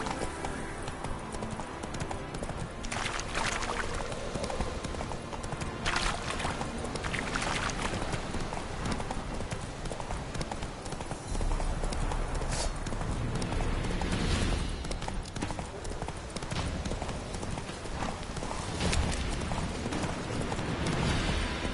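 Roach, a horse in a PS4 video game, gallops in a steady, continuous clip-clop of hooves over a dense game soundtrack and ambience, sustained for about twenty seconds.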